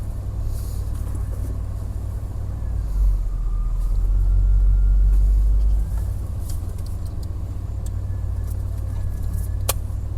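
Engine of an old car idling and driving after sitting for two years, a steady low rumble that swells briefly mid-clip as it pulls away, close and continuous with no talk.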